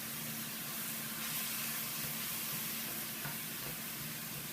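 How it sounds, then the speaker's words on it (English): Ground turkey browns in a pan over medium-high heat while a straight-bladed wooden spoon breaks it apart, a steady close sizzle and hiss with faint scraping of the spoon and no talking. "So what I'm going to do is let this brown on medium-high heat, pretty high heat, until it gets about halfway done"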